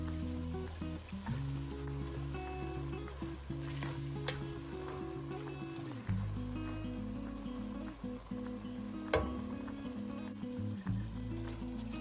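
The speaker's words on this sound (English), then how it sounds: "I'll let it fry for about a minute or so, and while that is frying" Steady sizzling of seasoning frying in a pot for carrot rice, continuous and close, with occasional clinks and stirring noises and a low hum underneath.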